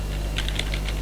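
Keys clatter on a computer keyboard while a QBasic DOS command is typed, a quick run of close, crisp clicks over a steady low hum.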